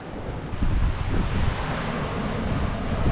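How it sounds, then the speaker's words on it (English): Strong wind and breaking waves buffet a sailboat crossing the Caribbean Sea in winds just over 20 knots, a steady loud roar with gusty wind noise on the microphone throughout. "I had a 30 degrees wind shift, and the wind reached a little more than 20 knots."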